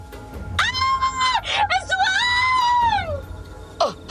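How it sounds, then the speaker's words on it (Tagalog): Loud, drawn-out scream as a staged sound effect in a dramatized aswang horror tale set at a fiesta in a remote village, one long wavering cry echoing from about half a second to three seconds, then a short shout at the end. "isang malakas na sigaw ang umalingaw-ngaw sa paligid"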